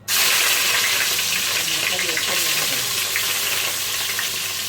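Meat sautéing in a hot pan, likely alongside eggplant being prepared for stuffed aubergine, gives a loud, steady sizzle and crackle that holds for the whole stretch, with faint stirring but no voices.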